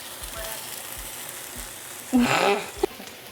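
Tomato hits a hot pan in a Venezuelan perico preparation, bursting into a sharp sizzle after a few soft taps, with a steady low frying hiss before and a final clink.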